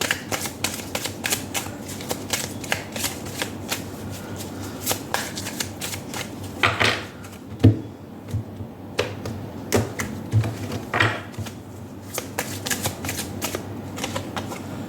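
Oracle cards from a Prism Oracle deck are shuffled by hand in a long run of quick, crisp riffling taps and flutters, close and moderately loud, with brief pauses and thumps as the deck is squared, and no talk.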